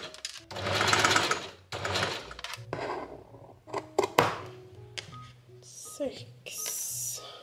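A domestic sewing machine stitching a blouse runs in several bursts of fast, even whirring, stopping and restarting between seams, with a person speaking briefly in the gaps.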